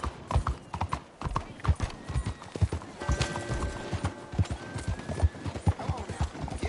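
Horse hooves clip-clop in a steady rhythmic gait in Red Dead Redemption 2 on PS5, with a brief whinny and a voice urging the horse along over the hoofbeats.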